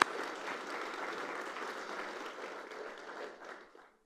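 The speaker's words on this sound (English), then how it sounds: "I'd like to give him a round of applause as well." Applause from an audience at a brunch-themed food event, a steady wash of many hands clapping at moderate volume that holds for about three and a half seconds, then thins out and fades away.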